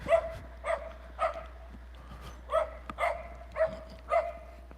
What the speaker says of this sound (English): The little dog was going after the big dog.